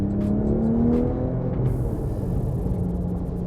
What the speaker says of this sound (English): That growly flat 6 in the back.